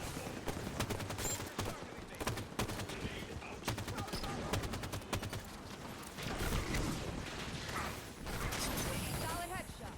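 Halo 5 gunfire plays in dense, fast bursts and sustained automatic rattling, mixed with game effects at moderate level, while a player talks over the action.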